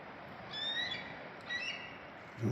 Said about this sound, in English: sounds like the eagle's up in the nest up here somewhere